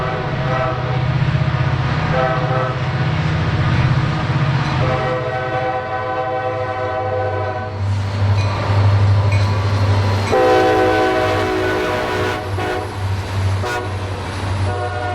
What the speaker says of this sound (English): this time with the former Penn Central SD40-2 leading the way